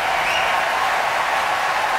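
Concert hall audience at the Proms applauding the concertmaster of the Oslo Philharmonic, a continuous even wash of clapping from a large crowd, steady and full throughout.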